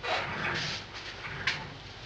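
A dog gives a few faint, distant barks and whimpers against a background hiss.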